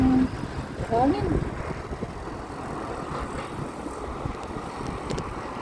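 Gusty wind roars across a microphone outdoors on a hot, dusty day, a steady low rumble with a short burst of speech near the start.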